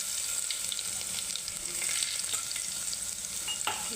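Ground garlic fries in a pan with cumin and mustard seeds, a steady close hissing sizzle with faint crackles and a light stir near the end.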